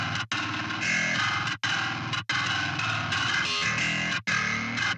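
Heavily distorted grit layer of a GenBass 2 bass guitar DI, a dense buzzing metal riff played alone with brief gaps between phrases, loud and saturated with no talk.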